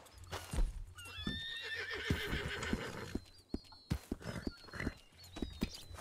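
Horses whinny repeatedly in the RedM western game, with clip-clop of hooves and scattered thuds, several animals close by with no talk.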